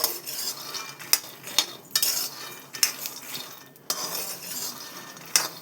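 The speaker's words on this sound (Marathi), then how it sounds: "इथे आपण शेंगदाणे भाजायला टाकलेले आहेत छान असे शेंगदाणे भाजून घ्यायचे" Peanuts roast in a pan for sesame and jaggery ladoos while a metal spoon stirs them, making repeated close scraping and rattling strokes with brief clinks against the pan.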